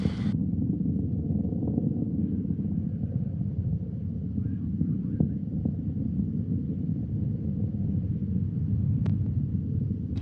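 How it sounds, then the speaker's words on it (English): A Soyuz 2.1a rocket's first-stage engines thunder during launch from Baikonur, a continuous heavy low roar and rumble heard from a distance, steady throughout with faint wind buffeting. "First stage engines performing as advertised."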